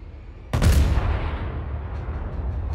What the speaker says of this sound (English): He's shooting at me with his rear turret.